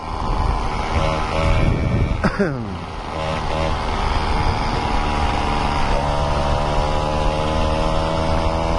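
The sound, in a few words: Peugeot 103Z moped accelerating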